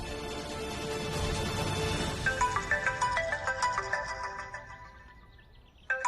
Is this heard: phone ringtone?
yes